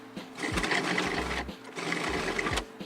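A food processor pulsing chopped duck with spices, its motor whirring loudly up close in two bursts of about a second each with brief pauses between.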